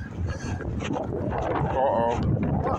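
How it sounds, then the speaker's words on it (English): Gusty wind rushes steadily across an outdoor microphone on a windy day in Saskatchewan, a dense continuous roar with a dog's faint presence and no clear talk. "It's windy day."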